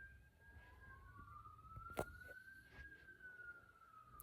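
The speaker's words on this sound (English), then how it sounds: "And now we've got sirens." A siren wails in the distance, its pitch sliding slowly up and down over a low rumble of traffic, with one sharp knock partway through.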